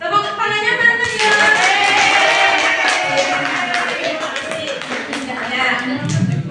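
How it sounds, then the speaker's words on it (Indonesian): A class of second-grade children applauds with dense, lively clapping, and voices chatter and call out over it throughout. "Tepuk tangannya mana ya?"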